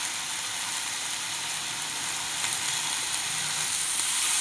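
Tender spinach fries in a pan while being stirred, a steady, close, bright sizzle and hiss that swells slightly toward the end, with light mechanical scraping underneath.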